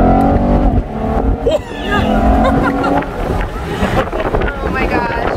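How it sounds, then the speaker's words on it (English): Chevrolet Camaro accelerating hard on an Arizona road trip, its engine note climbing through gears amid heavy wind buffeting, with voices talking over it. "This is how the Camaro goes."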